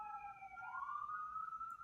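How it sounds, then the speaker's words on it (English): A faint siren wails in the distance in Philadelphia, its pitch sliding up and holding in a steady, far-off tone. "there's sirens going on"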